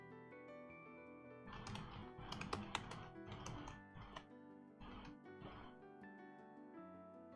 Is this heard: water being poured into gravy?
no